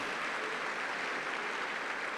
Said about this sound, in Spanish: dale ese aplauso al que está a tu lado.